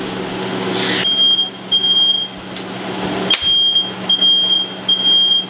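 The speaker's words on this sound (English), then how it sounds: "be very careful not to set off the fire alarm" A kitchen smoke alarm set off while trout broils on high with rosemary, sounding a loud, piercing electronic beep in repeated bursts with brief gaps, close and alone.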